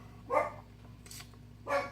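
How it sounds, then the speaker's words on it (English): A dog barks twice indoors, a short sharp bark followed by a second after a brief pause, fairly faint against a low steady hum. "My dog's barking."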